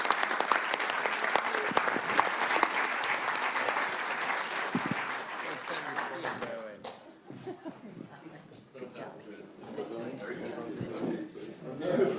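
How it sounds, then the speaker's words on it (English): Conference audience applauding after a pandemic readiness panel at a World Health Assembly side event, dense steady clapping from a crowd that fades after about seven seconds into scattered claps, light chuckles and talk. "please give a big round of applause"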